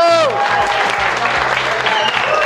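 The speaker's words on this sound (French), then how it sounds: "Grosse victoire, les applaudissements s'il vous plaît." Studio audience at a French regional quiz game show applauds steadily throughout, a dense, sustained clapping with a brief tonal cue fading at the start.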